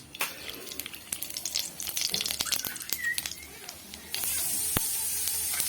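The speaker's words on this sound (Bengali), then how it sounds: "দিয়ে দিচ্ছি পরিমাণ মতো তেল আর এতে ফোড়ন দেওয়ার জন্য দিয়ে দিচ্ছি পাঁচ ফোড়ন" Panch phoron five-spice seeds sizzle and crackle in hot oil in a kadai, a steady close frying hiss with scattered pops that grows louder and denser near the end.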